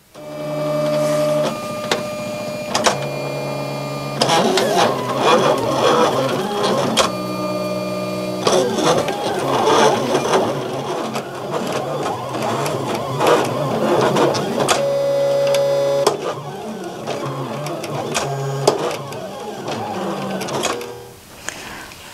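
A cutting machine slices heat transfer vinyl for a girls' shirt and matching doll shirt craft, giving a continuous mechanical whirring with stepped motor tones and rhythmic carriage movements, loud and close, with brief pauses between passes.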